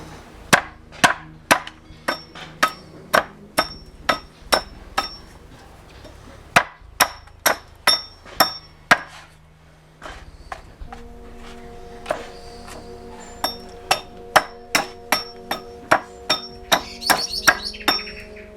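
A Viking-style axe chops wood in a steady series of sharp, loud strikes, about twenty-five impacts with brief pauses, each a crisp woody thwack with a ringing edge.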